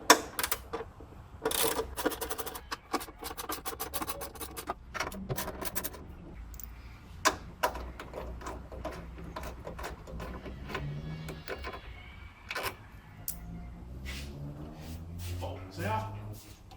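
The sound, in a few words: bolts being removed from a windshield wiper linkage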